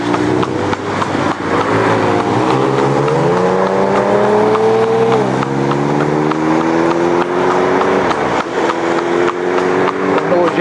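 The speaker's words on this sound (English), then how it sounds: "The noisy old motorbike just went by." A noisy old motorbike passes close by on a road, its loud buzzing engine rising and falling in pitch as it revs and shifts, filling the whole stretch before dropping away.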